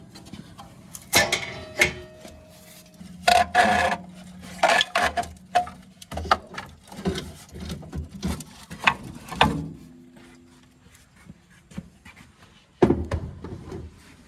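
Bolts being backed out on a Polaris RZR XP 1000 Turbo, with close metallic clanks, wrench clicks and tool rattles in irregular bursts, separated by quieter pauses.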